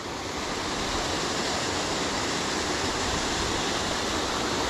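Loud, continuous rushing roar of a waterfall crashing into a splash pool, close and unbroken throughout, with no voices.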